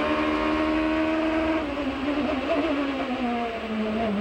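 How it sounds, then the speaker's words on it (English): A Formula Atlantic race car at the Toronto Indy street circuit, its engine screaming at high revs near the rev limiter with a misfire, loud and sustained with a slight pitch drop, no talk. "If you catch the rev limiter, as you heard there, that misfire just at the end of a straightaway"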